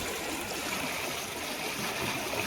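Floodwater after heavy rain rushes steadily past a blocked culvert, a continuous broadband wash of flowing water that stays even and moderately loud throughout, with no voices.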